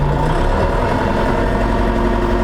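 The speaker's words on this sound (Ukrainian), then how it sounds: "це холості, це півтори тисячі" A new DTZ 504 tractor engine runs at a steady 1500 rpm, a constant low diesel drone with no changes, close and alone.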